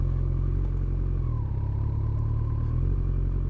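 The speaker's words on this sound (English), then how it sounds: "The bike's revving up a little bit now" A Kawasaki ZZR1400 motorcycle engine runs at low revs with a steady mid-pitched drone that rises slightly partway through, heard alone without talk.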